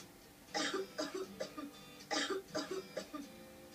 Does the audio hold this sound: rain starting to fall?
no